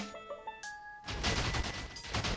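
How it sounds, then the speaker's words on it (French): Nuclear bomb explosions in Minecraft: after a second of tonal game music, a loud, dense broadband roar of blasts and crackling rumble sets in and keeps going, swelling again near the end. "regardez les explosions que ça fait"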